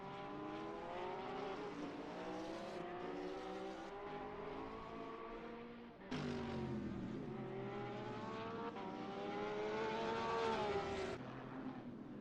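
Sim racing GT3 cars at the Nürburgring, a BMW Z4 among them, drone steadily with layered engine tones rising and falling through gear changes, continuous and fairly loud with no talk.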